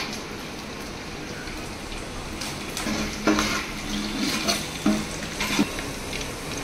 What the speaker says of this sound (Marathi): मस्त गरम मसाला गरम होता. आवाज येता बघा चरच.